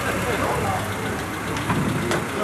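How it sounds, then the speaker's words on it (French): A rally sweeper car, the last vehicle following a historic rally, its engine running steadily and fairly faint amid diffuse outdoor noise, with no clear pass-by swell. "la voiture balai qui va passer évidemment"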